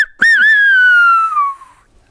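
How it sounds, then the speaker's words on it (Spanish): A single loud, piercing finger whistle from the Gran Canaria whistled language: a sharp attack, then a long sustained tone that slowly glides downward for over a second before fading out, close and alone. "Se ponía el dedo así y silbaba, y ponía los dedos así y silbaba."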